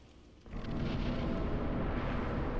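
A deep, sustained explosion roars out of near-silence in Dark Souls and keeps rumbling as one long, loud, wide blast wave with no pauses.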